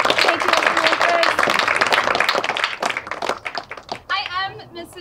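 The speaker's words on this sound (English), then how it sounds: "Can we have a huge round of applause for amazing Mr." Dense, lively clapping from an audience at a middle school drama performance fills the first few seconds, close and loud. The applause thins out and a voice begins speaking as it fades.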